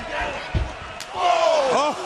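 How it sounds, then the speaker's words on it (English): Wrestler's punch knocking an opponent off the ring apron during a televised pro wrestling match: a sharp slam-like impact, then a thud against crowd noise, with a commentator's voice over it. "right hand knocks McIntyre off the apron."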